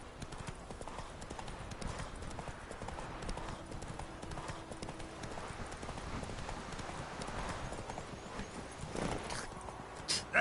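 Hooves of Roach, a video game horse, pound in a rapid, continuous galloping clip-clop under ambient game sound, with brief voice moments near the end.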